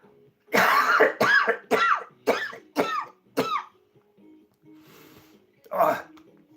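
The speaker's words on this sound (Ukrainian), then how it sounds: "трохи кашлює, що не привик до нього" Elderly man coughing and clearing his throat after smoking overly strong tobacco: six harsh, closely spaced coughs in a row, a pause with faint breathing, then one more loud cough, all close to the mic.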